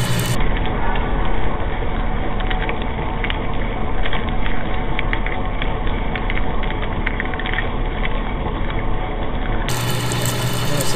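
A Walker Turner auto-feed drill press drills into steel, giving a loud, close, steady motor drone that holds evenly throughout.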